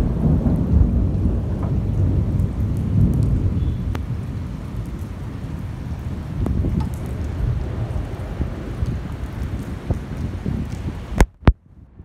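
Steady rain pours with a low rumble of thunder rolling underneath, constant and enveloping, ending with a couple of sharp close clicks, during a thunderstorm in Kuwait.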